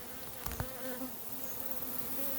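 A steady drone from a honey bee swarm in a hot apiary, with a brief thump early on and individual bees whining past the mic over the constant hum.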